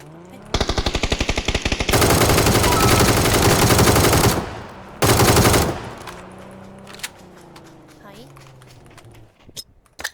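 Rapid automatic gunfire from Battlegrounds, with a short opening string of shots followed by a loud sustained burst, then a second burst and fading scattered pops as the shooting dies away.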